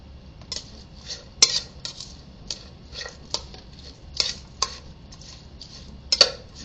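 A spoon works chopped cactus pad into a Mexican vegetable pancake batter in a bowl, giving a string of light, uneven clinks and scrapes at close range with no talking.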